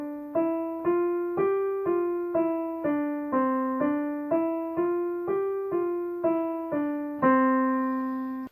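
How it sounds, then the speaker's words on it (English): Piano playing a legato line of sustained notes in steady rhythm, each tone flowing into the next without gaps, with a louder, longer final chord near the end; solo instrument, close and clear, no voices. "So if I was going to slur 4 quarter notes, it's going to sound like this."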